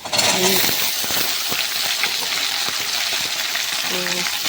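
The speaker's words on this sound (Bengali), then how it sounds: "শুকনো লঙ্কা দিয়ে ভাজি এমনি নর্মালি ভাজছি" Potatoes fry in oil in a pan, giving a steady crackling sizzle, with a few metallic clinks of a utensil against the pan near the start and near the end.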